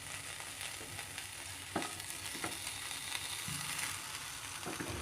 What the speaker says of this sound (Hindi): बेसिकली हम सब्जी को फ्राई कर रहे हैं।